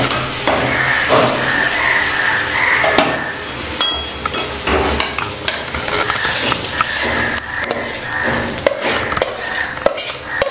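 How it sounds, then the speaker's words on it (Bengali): Spiced oil tempering is poured into a pot of masala khichdi and stirred in, with a spoon scraping and clinking against the pot over a soft sizzle, continuous and close for several seconds. "এবার এই তেল সমেত মশলা আমি খিচুড়ির মধ্যে দিয়ে দেব।"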